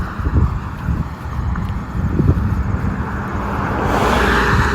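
Cars driving past on a road outdoors, a steady broadband rumble mixed with wind buffeting the microphone, swelling louder toward the end as a vehicle draws closer; no talking.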